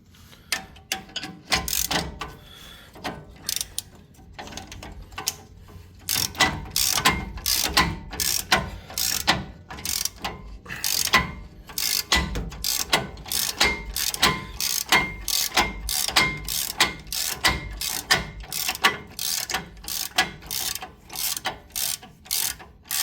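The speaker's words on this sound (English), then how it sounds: "we're going to loosen these two 18 mils out" Ratchet wrench loosening 18 mm bolts on a Chevy Duramax truck's brakes, heard as rapid, close, repeated bursts of sharp pawl clicks with brief pauses between strokes, with no talking.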